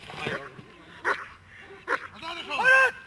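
A dog yips and whines in short bursts during protection training, with a sharper, louder cluster of cries at the end while a handler speaks nearby.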